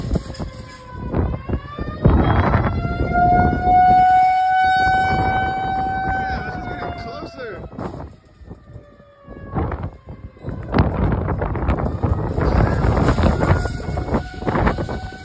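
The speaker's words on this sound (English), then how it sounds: "hear these tornado sirens" Loud wailing tornado sirens rise and hold steady tones outside a store parking lot, fading around the middle, then a second burst returns with noisy wind and clatter around it.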